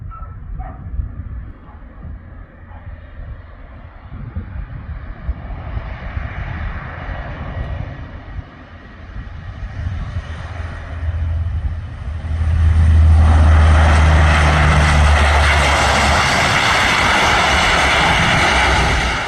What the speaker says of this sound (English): This C-130 landing without one of its engines.